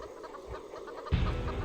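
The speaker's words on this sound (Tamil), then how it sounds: "இங்கேயும் கோழி கத்துற சத்தம் கேட்குது" A chicken clucks in short, soft bursts, then grows louder and denser in the final half-second against a quiet background.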